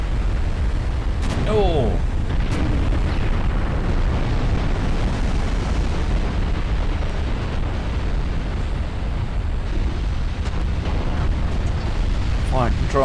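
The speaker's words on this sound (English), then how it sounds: "Mixture of AP and HE coming in and hitting it." Armour-piercing and high-explosive shells strike a target in a naval warfare video game, a loud, continuous rumbling barrage of overlapping blasts with one brief voice exclaiming partway through.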